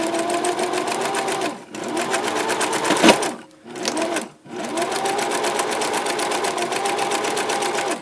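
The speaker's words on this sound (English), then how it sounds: "Alright, so you're just going to begin sewing." A sewing machine runs in steady bursts as it stitches the fabric of a Halloween bunting, with a couple of brief pauses and a quick reverse stitch to lock the seam, loud and close.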